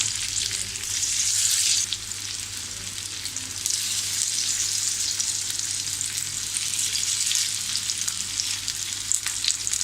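Soybean cutlets frying in hot oil over medium gas, giving a loud, steady, continuous sizzle with a few brief surges, and no talking.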